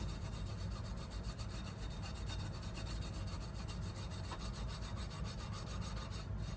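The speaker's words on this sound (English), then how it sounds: "Doesn't take a whole lot of scrubbing." Continuous, close, rapid back-and-forth scrubbing rasps over parts of a 1968 Camaro gauge cluster, an even gritty rubbing that never pauses, with no voices.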